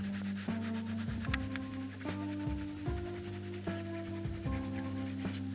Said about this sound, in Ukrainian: За допомогою тканини добре розгладжуємо пластик на шифері.